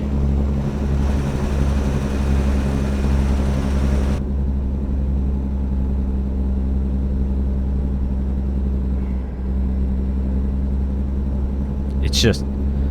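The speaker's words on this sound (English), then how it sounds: "So now if I do some Jake brake action here." Cummins N14 diesel truck engine in American Truck Simulator with the Jake brake engaged, a loud steady low-pitched rumble that drops off partway through, with a voice talking over it.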